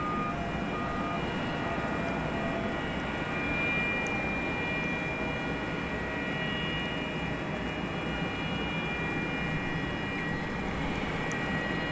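Turkish Airlines Boeing 787 Dreamliner departing DFW Airport at night, a distant steady jet engine roar rising and holding as a broad rumble, heard from outside with no talking.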